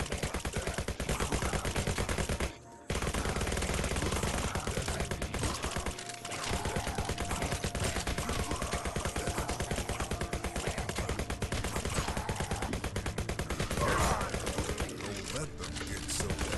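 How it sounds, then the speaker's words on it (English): Rapid assault rifle fire in a VR zombie shooter, dense and continuous bursts that carry almost the whole stretch, loud and close, with only a couple of brief pauses. "Assault rifles."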